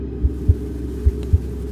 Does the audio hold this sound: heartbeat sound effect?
yes